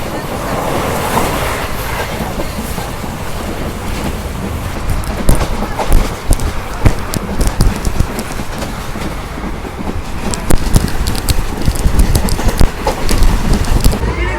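A passenger train runs steadily on the line from Madurai to Rameswaram, its carriages rumbling loudly with clickety-clack wheel beats that grow more pronounced near the end.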